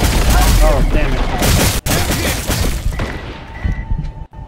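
Turrets open fire in the vampire-hunting shooter Redfall, a dense, sustained barrage of loud gunfire bursts with crashing impacts, while a voice talks over the din.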